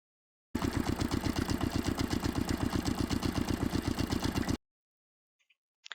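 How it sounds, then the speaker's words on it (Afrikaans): A farm feed mixer churning bales into cattle feed, giving a loud steady mechanical drone with a fast regular knocking pulse for about four seconds before stopping abruptly, followed by faint brief clicks. "Die bale word in die voermenger gelaai. Dit meng en maak die kos vir die beeste fyn om te eet."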